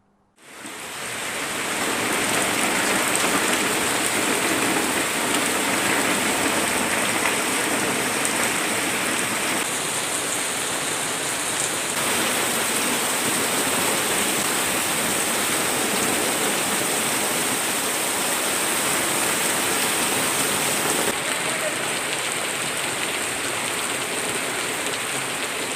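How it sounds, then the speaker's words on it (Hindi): Heavy rain pours steadily onto a road, a loud, dense, continuous hiss of water that holds unbroken throughout with no voices. "आज बारिश ने दिखाया कि अभी दम बाकी है।"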